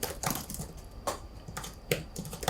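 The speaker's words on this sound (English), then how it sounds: "my new favorite mechanical keyboard" Typing on a mechanical keyboard: close, crisp key clicks in uneven bursts and single strikes, clear and alone with no voices.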